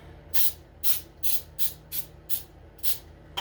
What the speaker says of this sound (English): Let's just spray it a little bit.